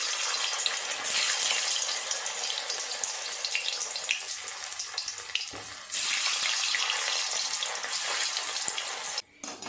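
Maida flour balls for a Kashmiri-paneer-style dish deep-fry in hot oil while being turned, giving a continuous close sizzling hiss that breaks off briefly midway and then resumes.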